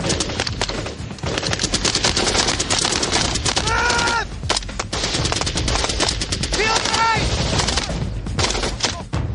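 Team members fire rifles during a contact drill, producing dense, continuous bursts of near gunfire with rapid cracks that barely pause over nine seconds.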